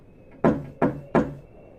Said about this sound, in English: I woke up to hear knocking on glass.